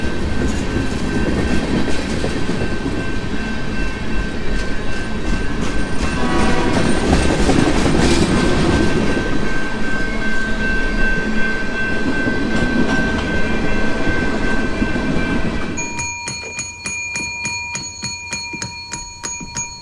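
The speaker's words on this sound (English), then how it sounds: "Yesterday you told me that freight train hardly ever comes through here at 5 a.m. in the morning." A freight train rumbles past close by with steady clattering wheels, its horn sounding in long sustained blasts over the noise.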